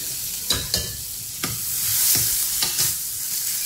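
Asafoetida and small green chillies hitting hot oil in a pan: a continuous bright sizzle and crackle, with several sharp bursts as pieces drop in and get stirred, close and fairly loud, no voices.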